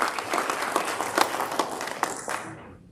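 Audience at a formal launch ceremony applauding a speaker, a burst of clapping from a modest crowd that is steady at first, then thins and fades out near the end.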